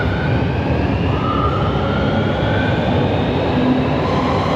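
A new Hanoi metro train rumbles loudly from inside the carriage, a steady, dense roar of wheels and motors with a faint rising whine and no speech.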